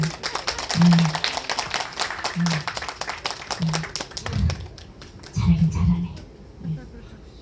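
Audience applause at a live tightrope-walking show, a dense patter of clapping over the first few seconds that thins out, with a voice talking loudly over it.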